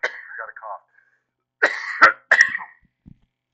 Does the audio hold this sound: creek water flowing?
no